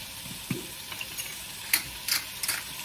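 Sausage meatballs and onion stirred in a frying pan, with soft scraping clicks of a spoon at irregular intervals over a faint steady sizzle, close and fairly quiet.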